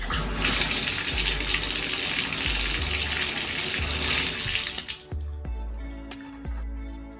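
Water gushing steadily from a Delta Monitor 1400 shower faucet during a leak test after a cartridge replacement, then cutting off abruptly, leaving faint drips and small knocks.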